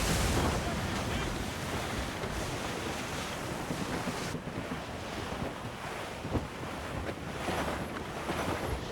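Strong wind roars over open sea with waves washing against a sailing ship in Assassin's Creed Rogue, a loud, continuous gusty rush with surging surf throughout.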